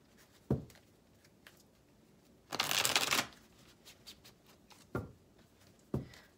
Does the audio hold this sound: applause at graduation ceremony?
no